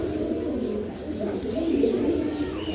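White carrier pigeons at a home pigeon farm coo continuously, a low, close, rolling murmur of overlapping calls.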